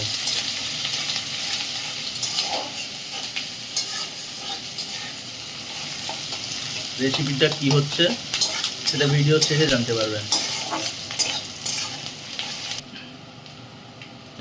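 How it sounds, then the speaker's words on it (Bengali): Chili and onion fry in a pan while being stirred, a steady sizzle with scraping spatula strokes throughout, and a voice talks over it partway. "তাতে লঙ্কা আর পেঁয়াজটা দিয়ে আর একটু ভেজে নেব"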